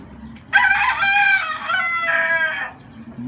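A rooster crows loudly and close by, one long drawn-out call with a short break in the middle, over quiet background.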